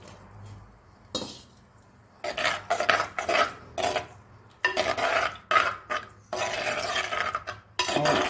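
Ground coconut paste spooned into a pot of simmering cucumber pachadi, with repeated metal spoon clinks and scraping bursts against the pot, close and fairly loud, separated by short pauses.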